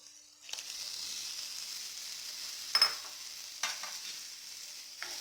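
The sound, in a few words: boiled jackfruit seeds with water poured into pan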